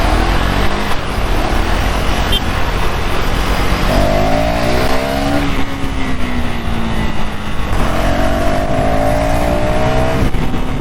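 A 2026 KTM Duke 390 (350cc) motorcycle revs hard through its gears on a ride, its engine tone climbing, dropping at each shift and climbing again, loud and continuous over heavy wind rush.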